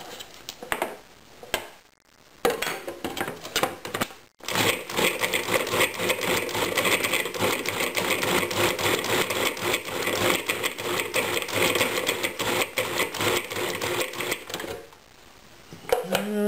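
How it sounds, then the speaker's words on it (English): A hand mixer whirs steadily while beating a low-carb banana mousse with heavy cream, a continuous buzzing motor with brief stops near the start and end, close and fairly loud with no talking. "we're going to continue to beat this with a hand mixer with some heavy cream"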